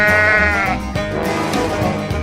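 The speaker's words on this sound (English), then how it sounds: "Sheep." A sheep in a 3D animal video game gives loud, wavering bleats that run together in one continuous stretch, close and alone.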